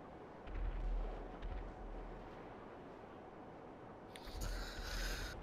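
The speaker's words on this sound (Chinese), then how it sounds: "有烟火秀，有烟火秀" Fireworks show in Grand Theft Auto V: deep, muffled booms roll through the first half, then a brighter crackling cluster of bursts near the end, all without talk.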